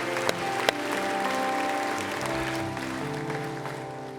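A church congregation applauds in a steady, sustained round of clapping that fills the room, with a couple of sharper claps early on.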